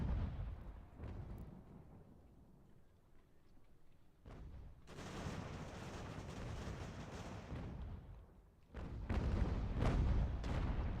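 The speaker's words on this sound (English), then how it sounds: "Counter battery fire" Artillery cannonade from cannon batteries trading counter-battery fire in Ultimate General: American Revolution, a steady rumble of low booms and blasts that swells louder midway and again near the end, with no talk.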